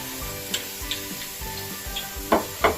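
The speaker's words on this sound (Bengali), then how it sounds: "এগুলো আমি ভালো করে মিশিয়ে নেব।" Beet and carrot batter for colourful Bengali chusi pitha being mixed in a pan on a gas stove, a soft continuous sizzle with periodic scraping stir strokes and two louder scrapes near the end, no talk.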